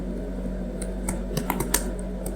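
Keystrokes on a computer keyboard during a Linux terminal session, a sparse run of light clicks scattered over about two seconds above a steady low hum, with no voices.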